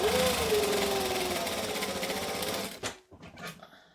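A sewing machine stitches fabric for a pair of shorts, running in a fast, steady mechanical drone for almost three seconds before stopping, followed by a few faint handling clicks.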